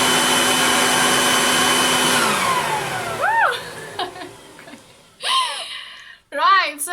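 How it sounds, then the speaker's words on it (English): A garden leaf blower roars loud and steady, then winds down in a falling whine. Afterward, voices gasp and exclaim in short bursts against near silence. "now I'll demonstrate, even with a blow machine, a garden blow machine"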